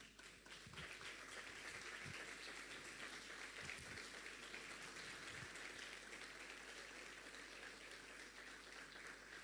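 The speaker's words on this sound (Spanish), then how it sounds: "le daría un aplauso a Dios." A congregation at a worship service applauds, a faint, distant wash of many hands clapping that holds steady throughout with no speech.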